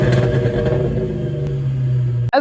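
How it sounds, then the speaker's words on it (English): The fuel-injected V8 of a 1996 Ford Mustang SN-95 revs up close and loud, then settles into a steady, deep engine drone that cuts off sharply at the end. "this car sounds a lot different than the 302"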